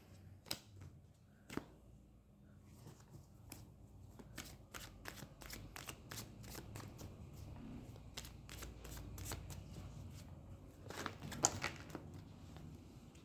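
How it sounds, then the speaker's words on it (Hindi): Playing cards spilling and dropping, a quiet scatter of light irregular slaps and ticks that grows busier toward the middle and end. "मेरे कार्ड्स गिर गए सारे"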